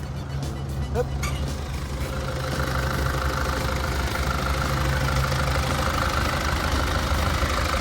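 A Tadano GR-120N-1 crane truck's diesel engine idles steadily with a low, constant rumble and mechanical hum, close by, with a brief clatter near the start.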